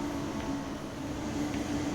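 A loco-hauled DB train in Train Sim World 3 on the Kassel–Fulda line rolls past steadily, a continuous low rumble with a sustained hum and no talk over it.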